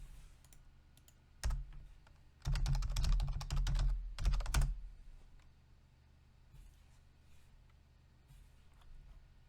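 Someone types a git clone command on a computer keyboard, with a few isolated key clicks followed by dense bursts of rapid typing, close and crisp, then scattered faint taps.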